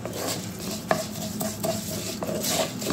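Vermicelli browning in a spoon of farm ghee and a spoon of oil, stirred with a utensil that scrapes and clinks against the pan in several distinct knocks over a steady low sizzle, close by with no talk.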